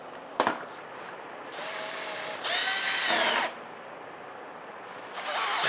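Power drill spinning a shaft clamped tight in its chuck, a steady whining motor hum that rises in pitch and intensity midway, then drops back, with brief clicks at the start.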